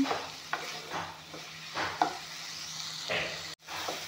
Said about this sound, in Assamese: এতিয়া বিলাহীখিনি অলপমান ভাজি ল'ম।